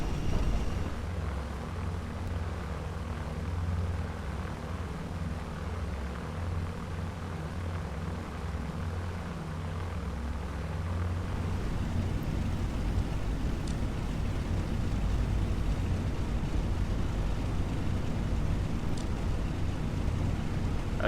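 A four-engine B-17 bomber taxiing in the Prepar3D flight simulator, a steady low engine drone and rumble with faint airy wind noise throughout, unbroken by speech.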